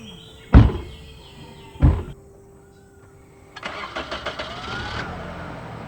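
Two heavy car door thunks sound about a second apart, followed after a pause by an engine cranking over and catching into a steady mid-pitched idle nearby.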